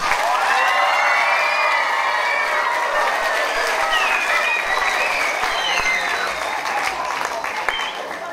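Loud, dense applause with cheers and children's shouts fills a hall at a Mother's Day circus-themed school show as the audience claps for the sound and lighting technician, holding steady before easing slightly at the end.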